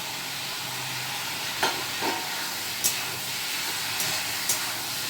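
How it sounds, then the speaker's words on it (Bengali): Chopped eggplant pieces sizzling in a hot wok for a fish curry with potato and taro, a continuous hissing fry broken by several short stirring clanks and scrapes, with no talking. "এবার সেই বেগুনগুলো কড়াইতে দিয়ে দেব"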